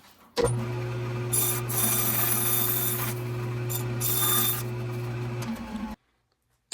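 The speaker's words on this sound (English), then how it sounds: "So now I could cut the vertical lines of the tunnel." A bandsaw cuts foam for a model railroad viaduct with a loud, steady motor hum and a rough rasping bite as the blade goes through, then stops sharply near the end.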